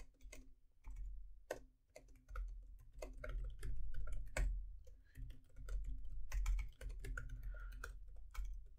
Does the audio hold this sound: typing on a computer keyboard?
yes